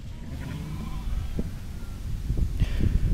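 Sheep bleat in farm yards during drenching and moving, with several calls rising over a steady background of shuffling livestock noise, growing busier and louder toward the end.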